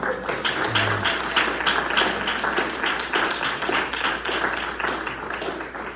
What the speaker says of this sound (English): Get a brushing world champion a round of applause.